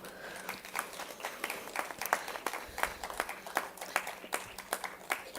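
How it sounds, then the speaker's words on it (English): Applause for an awardee at an international education conference: a round of clapping from a seated audience, steady and moderately loud, with sharp individual claps standing out throughout. "If we can hear a loud round of applause for her"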